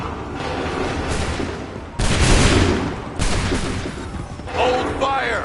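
Musket volleys crash out in the Assassin's Creed III video game, several loud sharp bursts of massed gunfire spaced a second or so apart amid battlefield noise, with shouted commands between them.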